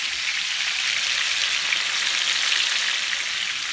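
Meatballs searing in a hot frying pan, a short steady burst of dense sizzling and fine spattering heard up close, with no voices.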